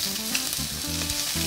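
Octopus sizzles on a hot griddle, a steady close frying crackle with broad hiss and faint low scraping, no voices.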